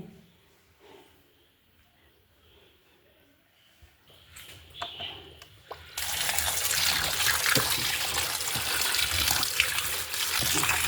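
Food is washed under running water, quiet handling at first, then a steady loud gush of tap water filling the second half.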